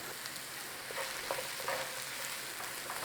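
Carrots and onions frying in a pan for minced beef pie filling, giving a steady close sizzle with faint crackles and occasional stirring clicks, no talking.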